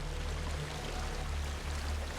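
Waterfall in Hellblade: Senua's Sacrifice, a continuous dense rush of falling water with a deep low roar, steady and close throughout with no voices.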